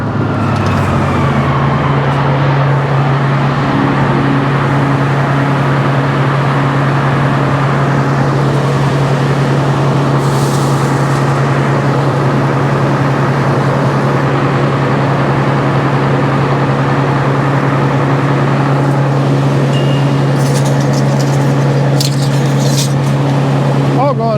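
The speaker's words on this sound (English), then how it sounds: "Blower's working great." A blower runs steadily at a sawmill while old pine is being sawn, a constant loud mechanical drone with a strong low hum that holds from start to finish, with a voice talking briefly over it.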